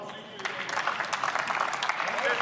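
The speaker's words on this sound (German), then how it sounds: "Was denken Sie, warum Sie Beifall von der Seite bekommen?" Applause in the German parliament during a debate session, a steady spread of many hands clapping at a moderate distance, continuous for the whole stretch with a faint background murmur.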